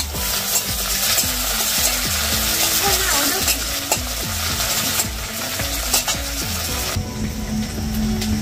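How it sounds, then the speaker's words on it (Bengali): Chopped tomatoes frying in a pan for fish kochuri, a loud, dense sizzle under steady rhythmic stirring and scraping of a spatula against the pan, with no talk. "আর এইবার টমেটো কুচোগুলো দিয়ে দিই।"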